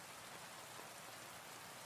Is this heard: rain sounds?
yes